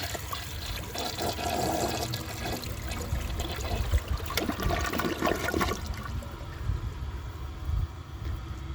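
A 1999 Porcelamex toilet flushes in a loud, steady rush of water for about six seconds, then eases into a quieter trickle and gurgle as the bowl refills.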